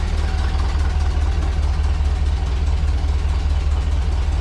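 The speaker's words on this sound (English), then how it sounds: "And the exhaust leak." A cold vehicle engine idles in neutral with an exhaust leak, giving a steady, loud low rumble with a fast even pulsing chuff that holds unchanged throughout, no voices over it.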